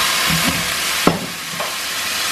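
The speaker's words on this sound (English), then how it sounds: "Adding the whiskey to the steak." Whiskey is poured onto steak in a hot pan, setting off a loud, continuous hissing sizzle close by, broken by a few utensil knocks against the pan.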